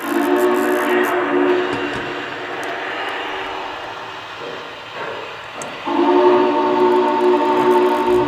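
A steady, sustained steam whistle sounds from a Vision Line Big Boy 4000 model locomotive, a layered tonal blast that dips briefly before swelling louder again near the end.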